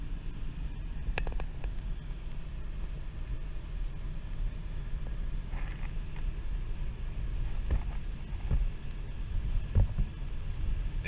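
A car driving along a snowy Vermont road, steady low road rumble and wind noise with a few faint clicks and knocks, no talking.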